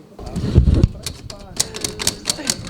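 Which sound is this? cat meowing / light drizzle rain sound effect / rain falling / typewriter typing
typewriter typing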